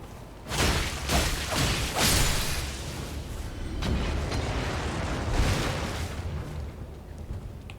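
Fire pots thrown by enemies in Elden Ring burst in a string of heavy whooshing blasts and thuds, each explosion loud and close, followed by a rumbling roar, with no talk.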